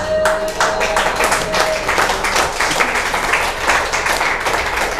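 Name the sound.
congregation clapping in praise at a church service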